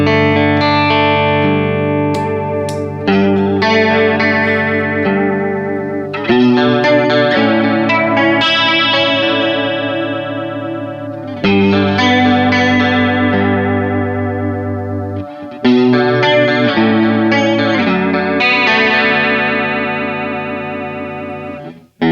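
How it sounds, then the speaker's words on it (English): Clean Stratocaster electric guitar run through a Walrus Audio Julia chorus pedal, playing sustained chords and arpeggiated phrases in several repeated sections, with a shimmering, wavering chorus texture and no talking. "Here's the Strat clean."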